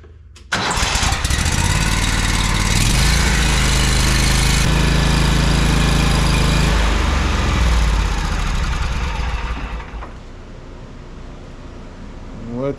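A Toro lawn mower engine cranks and catches, then runs loud and steady at close range with a rough mechanical roar that settles slightly lower toward the end.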